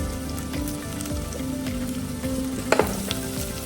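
Chopped onion and garlic fry in a pan, giving a steady crackling sizzle with a faint low hum underneath and a brief clatter near the end.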